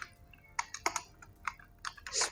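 Typing on a computer keyboard, a quick irregular run of close key clacks, about a dozen strikes in a couple of seconds.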